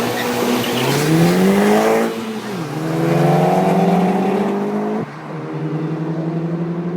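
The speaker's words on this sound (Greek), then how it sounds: "θα ακουστούν τα αυτοκίνητα τώρα" Race cars, including an Audi A4, launch at a race start: loud, close engines rev and accelerate with rising pitch, break off at gear changes, and climb again as they pull away.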